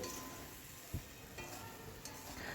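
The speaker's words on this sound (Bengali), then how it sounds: "বড়ির সঙ্গে কিন্তু সব মশলা সবজিগুলো ভাজা হচ্ছে" Bori lentil dumplings frying with spices and spring vegetables in a pan, a soft steady sizzle with a few stirring knocks, close and fairly quiet, no talking.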